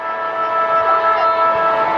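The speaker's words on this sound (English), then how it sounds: "On the siren." Stadium siren at an AFL match between Fremantle and Hawthorn, a loud sustained tonal blare holding steady for a couple of seconds amid crowd noise.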